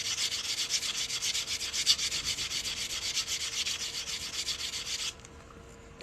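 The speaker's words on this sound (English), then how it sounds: "Sand this cut edge." The cut edge of a silver coin ring is sanded with quick, even back-and-forth rubbing strokes that stay close and steady for about five seconds, then stop abruptly.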